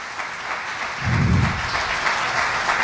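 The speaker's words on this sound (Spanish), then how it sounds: "denle un aplauso al Señor, su creador" Church congregation breaking into applause during a Spanish-language sermon, a sudden swell of many hands clapping that rises sharply then settles into steady, sustained clapping filling the room.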